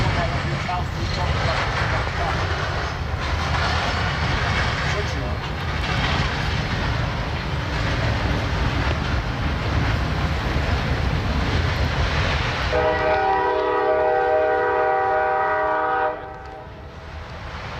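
An eastbound CSX freight train on the B&O line at Fostoria, Ohio rumbles past with a continuous heavy roar of engines and rolling cars. Near the end, a long horn blast sounds as the train noise fades.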